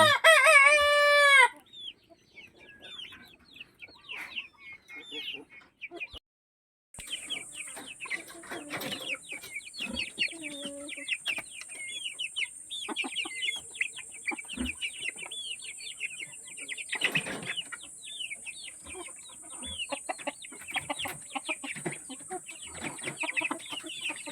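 Barred Plymouth Rock crossed with White Leghorn chickens cluck steadily and close by, with a loud rooster crow at the start and a brief silent break before the flock's clucking resumes with a steady high hiss behind it.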